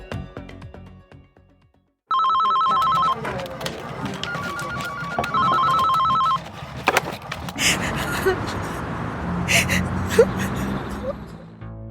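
A telephone rings with an incoming call, its bright electronic bell sounding in three clear bursts over a low, rumbling background, then giving way to a busier wash of noise.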